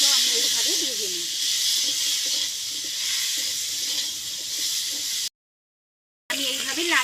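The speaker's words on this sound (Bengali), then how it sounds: "হলুদ, লাল লাল করে কপিটাও আমি এইভাবে ভেজে নিই।" Cauliflower florets frying with turmeric in hot oil for a Bengali catla fish curry, giving a steady loud hiss and sizzle throughout, with a voice speaking over it and a brief silent gap near the end.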